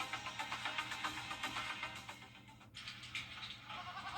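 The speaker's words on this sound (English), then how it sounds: "What's with all the goats?" Goats bleat in a TV advert, a dense, quavering chorus of overlapping cries that pulse steadily over a noisy background, fairly close, with no talking.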